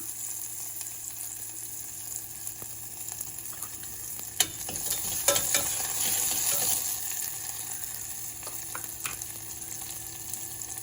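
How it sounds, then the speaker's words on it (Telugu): Green chillies and onion sizzling in hot oil in a pan, a steady close frying hiss with a few louder crackles and scrapes partway through, no voices. "ఇది ఫ్రై అయింది."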